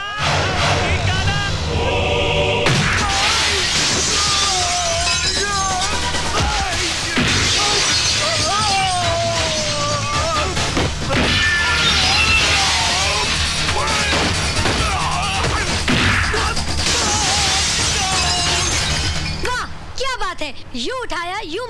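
Glass shatters loudly during a brawl in a Hindi comedy film scene, the crash standing out over continuous music and shouting, with people talking throughout.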